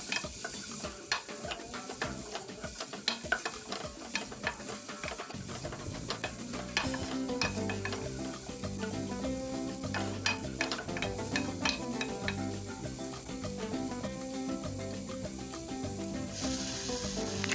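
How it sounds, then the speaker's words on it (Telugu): Half a cup of cabbage pieces fries in a pan while a utensil stirs them, giving a dense run of clicks and scrapes over a loud, continuous sizzle, with no talking. "ఇందులోకి ఒక 1/2 కప్ క్యాబేజీ పీసెస్ని కూడా యాడ్ చేసుకుని మిక్స్ చేసుకోవాలి."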